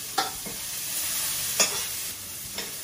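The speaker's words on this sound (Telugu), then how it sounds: "సో నేను కొంచెం ఆనియన్స్ వేస్తున్నాను" Onions fry in a hot pan, a steady close sizzle broken by a few sharp scrapes and clinks as a spoon stirs them, with no one speaking.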